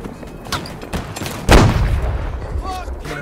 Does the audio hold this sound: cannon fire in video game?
yes